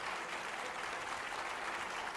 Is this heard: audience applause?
yes